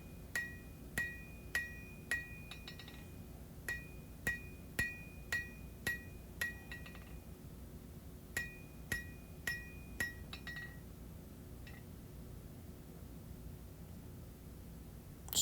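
A smith hand forges a steel hunting knife blade, hammering to draw out its taper: bright, ringing metallic strikes in quick rhythmic bursts with short pauses between them, close and clear over a faint background hum.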